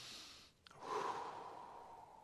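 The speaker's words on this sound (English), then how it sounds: "Do 10 diaphragmatic breaths." A slow, deep diaphragmatic breath, a soft airy inhale, a brief pause, then a long, gentle exhale, close and quiet.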